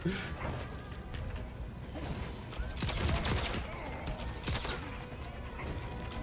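Ranged projectile attacks in a Mortal Kombat 11 tournament match: a fast run of whooshes, impacts and gunfire-like bursts, with a heavier crashing hit near the middle, played at a low level.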